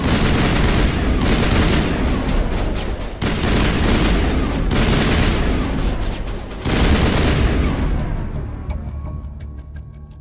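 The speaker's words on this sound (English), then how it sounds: "Open fire! Open fire!" Heavy sustained gunfire in the Mass Effect video game, dense rapid bursts of shots and booms filling the whole stretch, loud and close, with brief gaps before fading toward the end.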